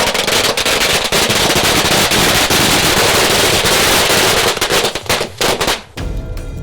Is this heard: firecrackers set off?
yes